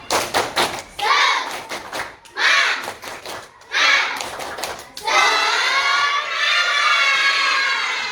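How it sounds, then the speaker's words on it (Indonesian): A fourth-grade class in an Indonesian primary school doing a rhythmic spirit clap: bursts of sharp clapping alternate with children chanting together, ending in a longer loud group shout. "Apakah kalian bisa tepuk semangat?"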